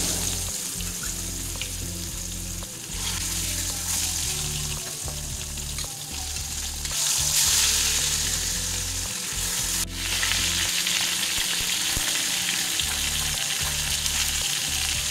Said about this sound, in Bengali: এবারে মাছগুলো দিয়ে দেবো। তেল গরম হয়ে গেছে।